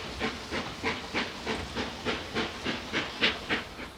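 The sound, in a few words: steam locomotive hissing, British Railways Standard Class 4 75078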